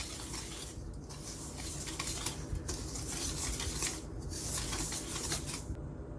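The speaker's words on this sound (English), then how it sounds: "I'm just going to whisk that around" A whisk scrapes and swishes steadily around a bowl, mixing grated lemon into muffin batter, with a soft continuous rhythm and faint clinks against the sides, close up and without speech.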